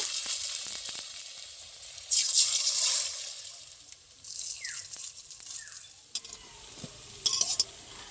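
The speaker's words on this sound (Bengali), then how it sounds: "আমার সব বড়া ভালো করে ভাজা হয়ে গেছে পকোড়া," Pakora fritters sizzle and crackle as they fry in oil, with a steady close hiss and brighter bursts as the batter is stirred or turned, with no talk.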